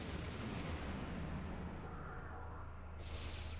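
Mortar and artillery fire in the Star Trek Online video game: dense, continuous rumbling barrage of low booms with a sudden hiss of high-pitched debris near the end, no talk over it.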